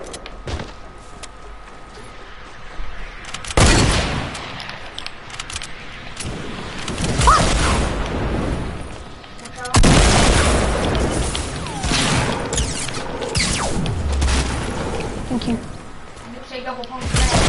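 Video game gunfire and explosions burst out in heavy, booming blasts at two points, with crashing debris and scattered shots between them, while players talk excitedly over the action.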